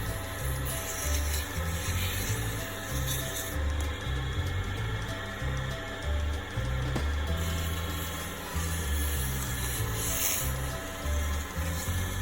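Sandpaper rubs back and forth over a wooden surface with a finish, a continuous close scratchy scraping with steady strokes and a faint mechanical hum underneath.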